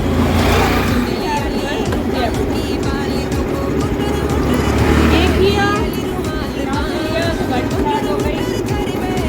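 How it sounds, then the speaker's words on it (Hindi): A small scooter engine revs loudly and steadily as the accelerator is opened, the pitch climbing as it accelerates, with rough rumbling and road noise throughout. "एक्सीलेटर दिया, गाड़ी की स्पीड बढ़ गई"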